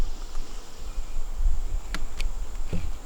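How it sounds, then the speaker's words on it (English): Honey bees buzz inside a freshly opened, smoked hive, a close, steady hum with a few sharp brief taps and rustles, no talking. "Hello, bees."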